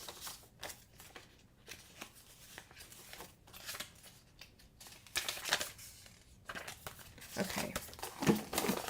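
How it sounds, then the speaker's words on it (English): Paper envelopes stuck together are handled and pulled apart in close, crisp rustles and crinkles, with short tearing scrapes and pauses between them. "These envelopes are sticking to each other."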